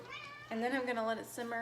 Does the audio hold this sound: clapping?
no